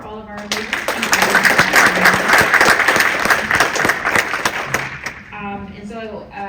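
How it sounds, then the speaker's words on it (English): Audience applause for leaders at the Maryland Food Summit, loud dense clapping from a crowd that swells quickly and holds steady for several seconds before tapering off under a voice starting to speak. "One more round of applause for all of our leaders."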